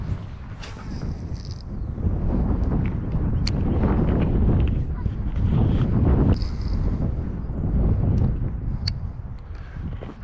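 Wind blows across a pond, gusting and buffeting the microphone in a steady loud roar with occasional sharper gusts, no talk heard.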